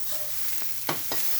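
Pizza toppings fry in a pan on high heat with a steady close sizzle, broken by a few brief scraping stirs.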